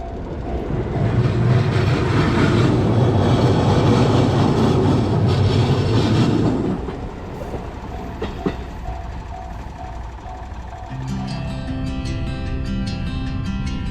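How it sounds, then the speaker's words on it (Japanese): A Ban'etsu West Line train rumbles past loudly at a level crossing, then fades into softer mechanical noise as a steady ringing crossing bell takes over near the end. "ちょうど磐越西線の汽車が通過しました。"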